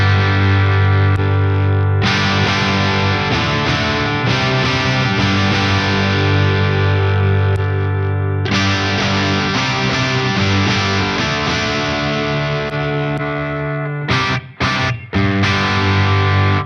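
Distorted electric guitar played through a Friedman IR-X twin-channel high-voltage valve preamp, sustained chords ringing loud and steady as the sound shifts between impulse responses, with brief choppy gaps near the end.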